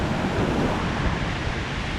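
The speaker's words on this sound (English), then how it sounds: "You can see the river's flowing good." The river rushing over Wren Falls in a rocky gorge, a steady, dense roar of water that holds evenly loud throughout with no break.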